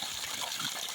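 A garden hose gushes a steady, loud stream of water onto a dog outdoors on a hot day, a continuous hissing spray with no pauses.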